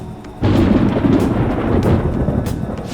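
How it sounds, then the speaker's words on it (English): A sudden deep rumble of thunder in Persona 5 Royal rolls in and sustains, with a soft hiss of rain underneath, loud and close. "It sounds like it's going to rain."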